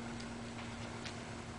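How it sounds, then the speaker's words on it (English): Steady tick-tock of a Howard Miller mantel clock, faint and even, alone under a constant low hum in a quiet auction room. "Howard Miller mantel clock"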